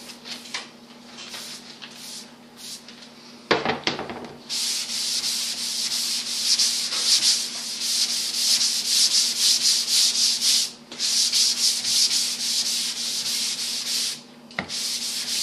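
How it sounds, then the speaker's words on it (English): Steady, gritty sanding on a sheet-metal car hood, long continuous rubbing strokes with a brief pause partway, loud and close with no talking. "I sanded on this earlier, now I'm sanding on this"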